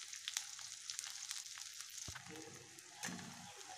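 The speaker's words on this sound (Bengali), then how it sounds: "পেঁয়াজটা ভাজা ভাজা হয়ে গেছে," Onions frying in hot mustard oil with chillies give a steady, close sizzle that crackles and spits throughout, with a brief stir or clatter near the middle.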